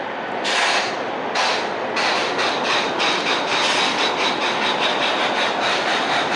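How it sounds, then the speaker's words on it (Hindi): An Indian Railways WAP-7 electric locomotive on the Prayagraj-Jaipur Express fills the scene with a loud, continuous rail roar and a hiss. Faint rhythmic knocks run beneath it. "ये है हमारा लोकोमोटिव कानपुर का वेब 7, जिसका कि नंबर है 37311।"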